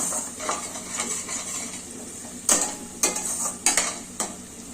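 Fenugreek leaves and garlic fry in oil under a steady close hiss and sizzle. A spatula scrapes and knocks against the pan several times in uneven strokes, with no talk.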